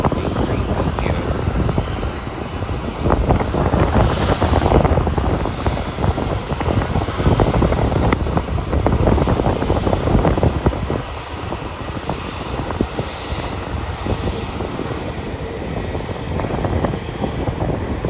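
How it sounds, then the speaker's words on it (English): A Jetstar Airbus A320 departs Melbourne bound for Sydney, its jet engines producing a broad, continuous roar that swells slightly midway and then holds steady at a moderate distance. "So the Jetstar flight to Sydney is departing now"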